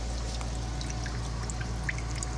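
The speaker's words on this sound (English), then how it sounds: "And the system flush is pouring out of here." Water from the flush of an OPEnSampler water sampler system pours out steadily at close range, a continuous splashing stream over a low machine hum.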